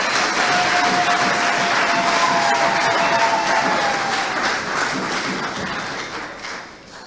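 An audience applauds at a gathering honouring a family of heroes, with dense sustained clapping that fills the whole stretch and fades slightly toward the end.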